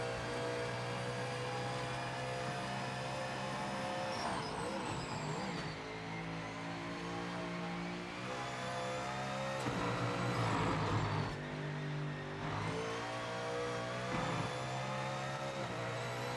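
A race car engine in the racing game Project Motor Racing on PS5 drones steadily throughout, with rising and falling revs and gear changes, moderately loud and continuous with no talk.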